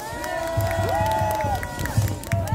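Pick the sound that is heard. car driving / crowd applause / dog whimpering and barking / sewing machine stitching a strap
crowd applause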